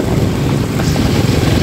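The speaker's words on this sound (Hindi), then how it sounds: "पानी बहुत ज़ोर का पानी है" Strong floodwater rushes past in a loud, continuous roar, with wind buffeting the microphone throughout.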